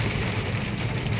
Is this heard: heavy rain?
yes